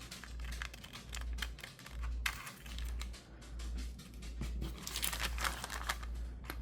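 Scissors snip out the corner of a paper bag amid close, continuous paper rustling and crinkling, with crisp short cuts and handling noise over a low hum.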